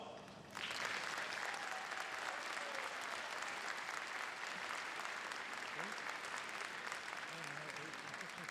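Graduation ceremony audience breaking into sustained applause for the faculty, a broad, even roar of many hands starting abruptly and continuing steadily, with some crowd voices underneath.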